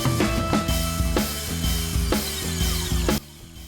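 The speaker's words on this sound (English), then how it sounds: "now we're ready to go back to drilling" A power drill whirs through material with a hole saw, its tone dipping and recovering in repeated cycles before cutting off abruptly.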